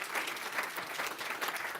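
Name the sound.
audience applause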